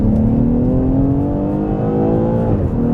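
A BMW X6 xDrive 40i M Sport accelerates hard, its engine note climbing steadily in pitch for nearly three seconds before easing off, loud and close with no talking.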